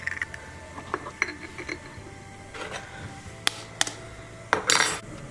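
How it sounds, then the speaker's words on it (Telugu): An egg is cracked against a bowl rim while an egg mixture is prepared for egg ponganalu, giving a few short, sharp clinks and taps amid quiet kitchen clatter, with a brief louder rustle near the end. "ఈ విధంగా ఎగ్గుని పగలు కొట్టేసేసుకోండి"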